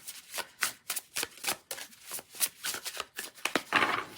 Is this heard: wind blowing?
no